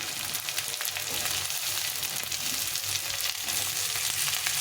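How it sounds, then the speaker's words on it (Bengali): Potatoes and onions frying in a pan for a duck egg curry, a steady close sizzle running unbroken throughout. "আলু আর পেঁয়াজটাকে একটু ভেজে দেবো"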